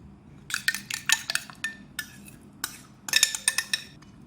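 Yogurt beaten in a bowl for beef korma, a spoon or whisk clinking rapidly against the bowl in close, bright bursts with short pauses between.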